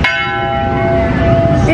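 Church bell ringing with a bright, sustained metallic tone and a long ringing decay, loud and close, with a second strike near the end.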